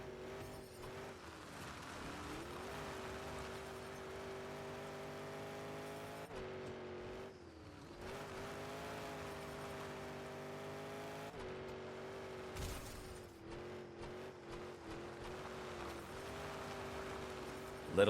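Monster truck engine in the video game Monster Jam Showdown, droning and revving steadily as the truck drives around the course, with pitch rising and dipping through gear shifts and brief drops, no voices heard.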